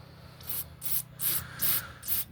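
Carburetor cleaner sprayed through the carburetor of a Honda HS724 snowblower in five short hissing bursts, close and evenly spaced, over a low steady hum.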